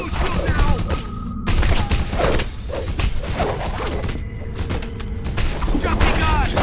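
A shootout in The Punisher PC game sounds as rapid bursts of gunfire, dense thumping shots and a few brief swooshes, with shouted voices in between.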